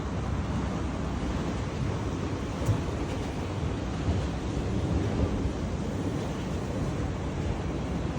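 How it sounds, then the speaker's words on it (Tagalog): Seaside surf along a shoreline walk, a constant dense wash of breaking waves mixed with some wind rumble, steady and unbroken throughout. "Ayan, dagat dyan. Dagat dito."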